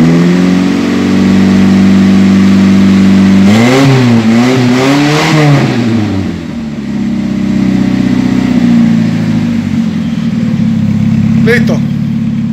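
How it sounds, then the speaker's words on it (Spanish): A 1980 Mini Cooper fitted with an MOA carbon fiber exhaust revs in long, loud pulls recorded close to the tailpipe, the engine note rising and falling before settling back to idle, with speech heard over it. "Ya, dale más largo las aceleraciones."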